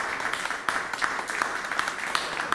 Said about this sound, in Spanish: a quien solicito un aplauso, por favor